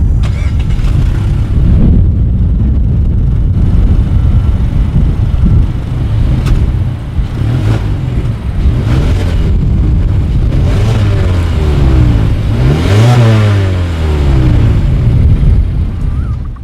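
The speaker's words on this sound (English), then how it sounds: "Dual exhaust outlets with chrome tips, so you guys know what we have to do next" A 2019 Mazda 3's dual exhaust rumbles loudly at idle and is revved several times, rising and falling in pitch, close to the chrome tailpipe tips with no talking.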